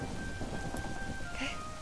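Rain and thunder in the game Minecraft, a steady hiss of rainfall with a low rumbling underneath, faint and continuous with no distinct strikes.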